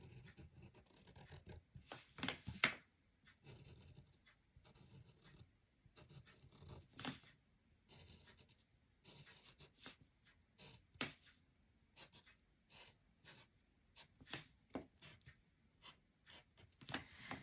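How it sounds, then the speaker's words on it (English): A Sharpie marker writes letters onto a canvas tote bag, making quiet, close, scratchy strokes in short bursts separated by pauses. "now using the Sharpie, I'm going to write it on"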